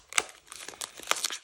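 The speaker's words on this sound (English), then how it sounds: "Get the plastic off of there." Plastic wrapping crinkles and tears off a craft kit box in a few sharp, close crackling bursts, loud and brief with no voices.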